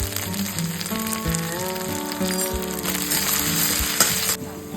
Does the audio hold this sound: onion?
yes